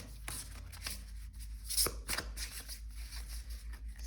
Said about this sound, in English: let me shuffle this deck like this